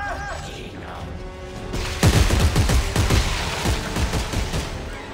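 Gunfire in the video game Dead Space 3 erupts partway through as a loud, rapid burst of shots with mechanical clatter, following a quieter stretch of ambient tones.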